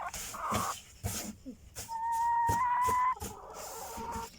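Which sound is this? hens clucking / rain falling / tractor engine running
hens clucking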